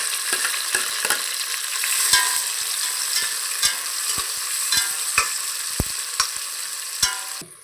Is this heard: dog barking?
no